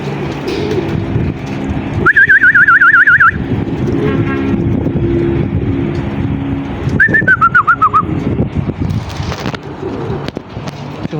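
Pigeons at a rooftop loft cooing and calling, with two bright whistled warbling calls and wing flutters amid outdoor background noise, fairly close and loud, no talking.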